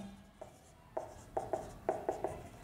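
Notes are written by hand during a physics lesson on wave motion, a quiet series of short scratchy pen or marker strokes in quick uneven bursts.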